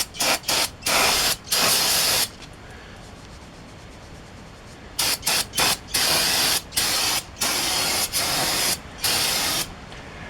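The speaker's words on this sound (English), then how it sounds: "And we'll take some brake clean," Brake cleaner sprays onto new brake parts during a Chevy Silverado or Avalanche brake job, in a series of loud, close hissing bursts of varying length, broken by a quiet pause in the middle.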